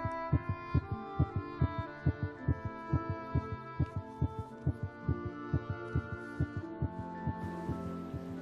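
A regular heartbeat thumps steadily and loudly throughout, each pulse a low double beat, with a faint hum underneath and no voices, as the rate seems to pick up slightly. It comes during a documentary about a pregnant animal about to give birth.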